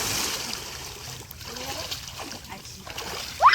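Water splashing as someone bathes outdoors in cold water, a steady watery wash with a sharper splash near the end, with a voice speaking over it.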